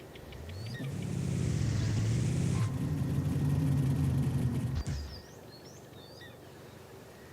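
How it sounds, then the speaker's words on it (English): A 1970 Chevrolet Chevelle SS 454 V8 rumbles with a deep, steady idle that swells and then cuts off abruptly. Faint bird chirps are heard in the quieter stretch afterward. "Engine sounds mean."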